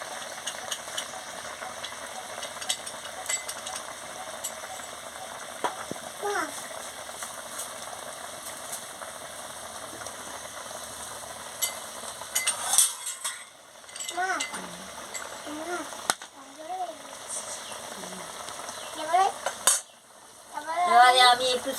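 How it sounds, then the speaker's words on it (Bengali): Pangas fish curry soured with dried mango powder bubbles and sizzles steadily in a pan, with occasional metallic clinks and scrapes of a stirring utensil. "টকবক করে ফুটছে, যত ফুটছে তত রঙটা বেরিয়ে যাচ্ছে।"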